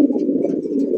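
A close, steady pigeon coo from a calling pigeon offered for sale, one continuous throaty murmur filling the short moment with no voices.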